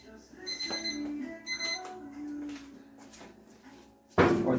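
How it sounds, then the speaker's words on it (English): Kitchen timer ringing while BBQ ribs cook, a short run of bright repeated chiming tones near the start that fades into kitchen clatter, ending in a loud burst of noise. "this is my timer"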